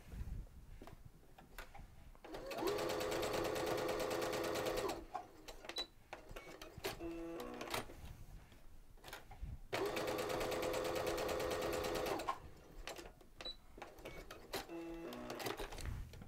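A sewing machine fitted with a quarter inch foot and a quilting guide bar stitches in two steady runs of about two and a half seconds each, separated and followed by quieter clicks and handling.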